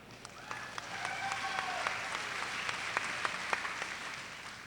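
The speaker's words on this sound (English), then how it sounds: "I might anticipate some more applause." A graduation audience at a high school ceremony claps steadily, a continuous spread of many hands with a few sharper claps standing out, moderately distant in a large hall, with some faint voices and whistles underneath.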